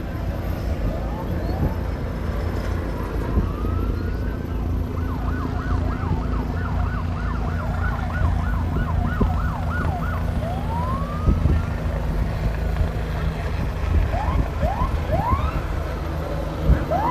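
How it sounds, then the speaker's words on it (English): Rising and falling wails from sirens on Chicago Police Department helicopters flying overhead at an air and water show, repeating through the clip over a steady roar of crowd and traffic noise. "Those sirens are coming from the helicopters."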